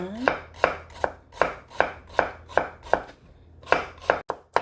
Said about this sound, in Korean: 좀 얇게 썰어줍니다.